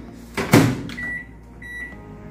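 A Panasonic microwave oven heating honey garlic chicken gives a muffled door clunk, then two clear electronic beeps over a low, steady hum.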